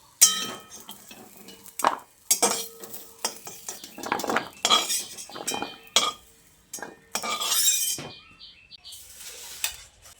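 A metal spatula clatters and scrapes inside an iron wok while fried moringa drumsticks are lifted out of hot oil. The sound is a close, irregular series of sharp knocks and scrapes, with brief pauses and no talking.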